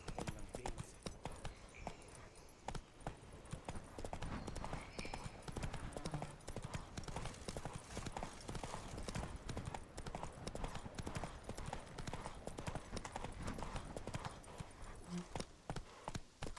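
Hoofbeats of the horse Roach clip-clopping steadily through The Witcher 3, a continuous galloping rhythm up close, with faint game voices and ambience underneath.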